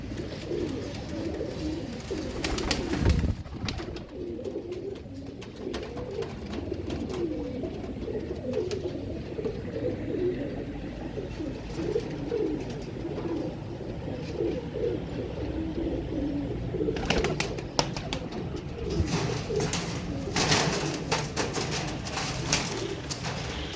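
Steady, soft cooing of several pigeons close by, overlapping and continuous throughout, with occasional rustling and a few brief wing flutters.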